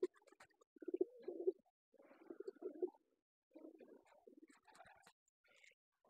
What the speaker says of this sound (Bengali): কিছু কিছু কবুতর আবার নিচের মধ্যেও জায়গা অবস্থান করছে